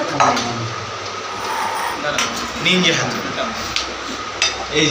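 Plates and dishes clink faintly while biryani is dished out during an Eid night meal at home, scattered light knocks and scrapes sitting under steady talk and background chatter.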